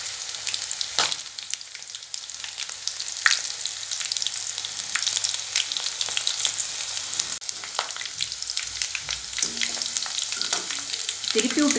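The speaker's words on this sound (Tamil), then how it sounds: "இப்போ எண்ணெய் நல்லா ஹீட் ஆயிடுச்சு. வெண்டைக்காயை ஃப்ரை பண்ணிக்கலாம்." Okra (ladies finger) frying crispy in hot oil in a pan, a steady dense sizzle and crackle up close with occasional stirring scrapes, no voices.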